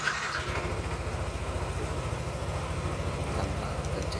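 A motorcycle engine idles close by after a keyless touch start, giving a steady low rumbling putter that holds evenly to the end without any talking.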